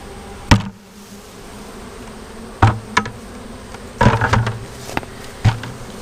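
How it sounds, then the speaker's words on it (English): A swarm of bees gathered in a bucket during a swarm capture from a tree, buzzing as a steady close hum, broken by several sharp knocks and clunks. "A gathering of bees in this bucket. These bees are in here hanging out."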